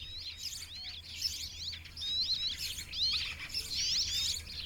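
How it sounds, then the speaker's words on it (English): Tits and rock sparrows chirp and twitter in quick, scattered bursts, getting busier toward the end, over a quiet background hum, in Italy. "inhabited by a number of birds, including tits and the shy rock sparrow."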